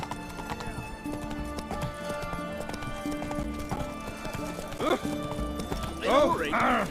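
Horse trotting in The Witcher 3 video game, even clip-clop of hooves under game music and voices, with a whinny near the end, close and moderately loud.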